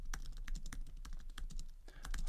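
Fast typing on a computer keyboard, a dense run of close, crisp key clicks in an uneven rhythm, with no voices.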